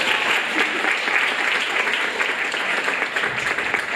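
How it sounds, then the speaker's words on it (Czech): An audience claps together in a dense, continuous burst of applause at a garden event, sustained at steady loudness for a few seconds. "Já myslím, že můžeme zatleskat"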